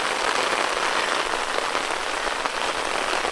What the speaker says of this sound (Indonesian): Menikmatin suasana hujan.